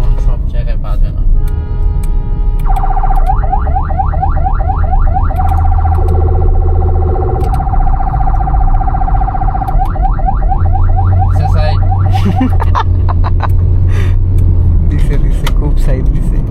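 Horn of a 2011 Toyota Premio G sedan in traffic in Bangladesh, sounding in repeated warbling bursts that cut in and out over engine rumble, with people talking inside the car.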